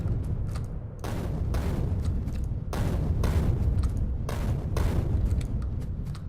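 Grenade explosions in the video game Factorio: a dense run of heavy, booming blasts that follow one another closely, loud and rumbling throughout with no pauses between them.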